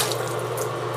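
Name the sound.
water from a tap, rinsing hands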